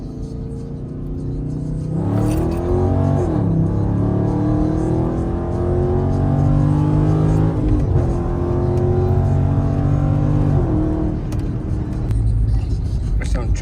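A tuned car with a 5.7 engine accelerates hard in sport mode, its loud, close exhaust climbing in pitch through several gear changes, with a sharp drop at each shift before it pulls again.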